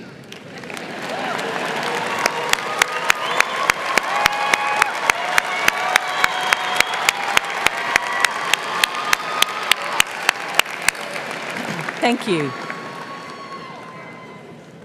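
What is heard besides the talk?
graduation ceremony crowd applauding supporters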